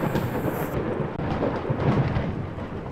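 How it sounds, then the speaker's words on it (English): Rolling thunder from a lightning strike in the horror game Bad Dream: Coma, a loud, continuous rumble mixed with steady rain that fills the whole stretch without any talk over it. "It got struck by lightning!"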